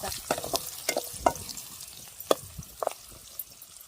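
Curry cooks in oil over a wood-fired stove, with soft crackling and scattered sharp pops and clinks of stirring at close range over a quiet background.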